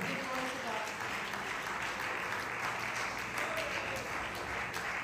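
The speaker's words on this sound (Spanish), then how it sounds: "Dele palmas a Dios, hermano." A church congregation claps steadily and continuously in a dense, even wash of applause, with voices and faint speech mixed in beneath it.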